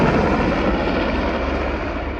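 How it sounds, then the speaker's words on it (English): A helicopter flies overhead during a desert road trip, a steady broad rumbling roar that stays loud and close throughout with no talk. "Oh, we got a helicopter."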